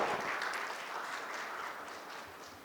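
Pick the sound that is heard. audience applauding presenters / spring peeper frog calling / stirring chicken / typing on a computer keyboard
audience applauding presenters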